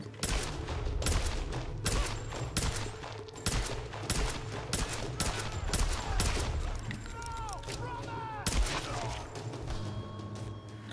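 Sustained gunfire in the Tomb Raider video game, with loud, rapid, overlapping shots and bursts that go on almost without pause, plus a voice heard faintly among them.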